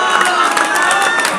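An audience at a comedy mimicry show breaks into dense, continuous applause and cheering, with shouting voices mixed into the loud crowd noise throughout.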